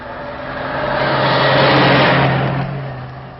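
A car passes along a road, its engine swelling as it approaches, peaking at close range, then fading as it moves away, heard alone without talk.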